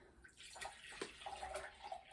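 Well water pouring into a cooking pot for a burdock broth, a steady watery rush with splashy texture, fairly quiet and unbroken, no talking.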